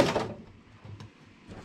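A metal tool box drawer slides open with a quick scraping rattle at the start, followed by faint clinks and handling noise in a garage.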